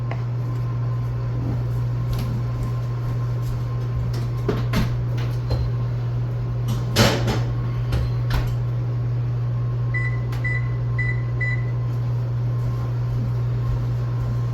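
A tray of butter swim biscuits slid into a kitchen oven: a steady appliance hum with light clatter, a louder clunk of the door midway, then a run of short electronic beeps.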